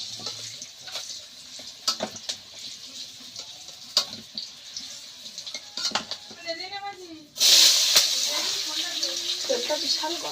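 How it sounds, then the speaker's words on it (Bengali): Very hot cooking oil in a pan, just used for frying potatoes, bursts into a sudden loud, steady sizzle partway through, after quieter kitchen clatter and a voice speaking. "তেলটা বিশাল গরম হয়ে গেছে"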